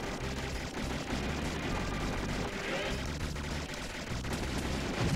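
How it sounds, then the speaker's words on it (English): A missile explodes in the video game 1944 The Loop Master, producing dense, booming blasts layered with rumbling gunfire-like crackle that stays loud and busy throughout. "I blew the missile up."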